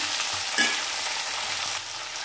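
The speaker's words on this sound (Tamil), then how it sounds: "இப்போ நம்ம குடமிளகாயும் தக்காளியும் சேர்த்தே போட்டுக்கலாம் இதை கொஞ்சம் நல்லா வதக்கிக்கலாம்" Capsicum, tomato and onion sauté in hot oil in a pan, giving a steady close sizzle and frying hiss with a brief stirring clatter near the start and no speech.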